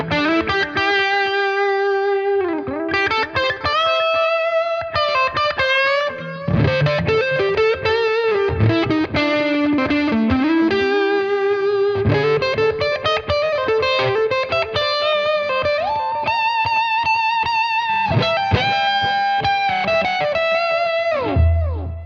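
Electric guitar played through Fender-style ToneX amp tones with a light tape delay, ringing chords and melodic single notes that sustain and trail off in soft repeats, clean with slight grit, played alone for about twenty seconds.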